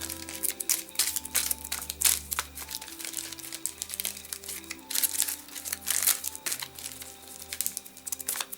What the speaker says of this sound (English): Shuffle these back into the deck.